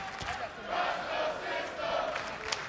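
A wrestling crowd in El Paso cheers and chants in sustained swelling waves, with a sharp shout near the end.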